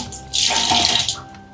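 A water tap gushes at a rest stop partway up the 1,260-step climb to Tiger Cave Temple, a steady close rushing stream that swells and then tapers off without any talking.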